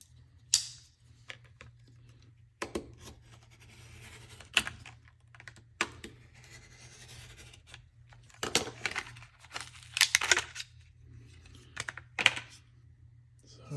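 A knife is unboxed, its packaging crinkling and tearing in scattered bursts of rustle and crackle over a low steady hum, close by, with quiet gaps between handling noises.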